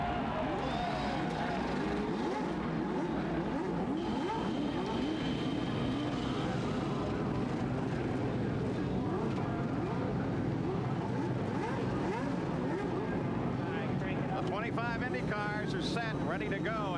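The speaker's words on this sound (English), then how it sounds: "Gentlemen, start your engines." IndyCar race cars fire up their engines at the start of a 1991 CART round at Portland, making a sustained layered engine drone heard from a distance with faint voices underneath.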